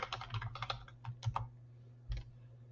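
Typing on a computer keyboard, a quick burst of close, soft key clicks followed by a pause and a few more taps, quiet and without speech.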